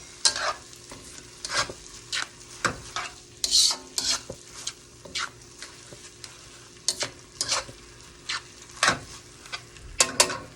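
Green onions hit a hot pan for a semi-homemade chop suey and are stir-fried, with a low sizzle under repeated sharp scraping and clacking strokes of the utensil against the pan. No one speaks.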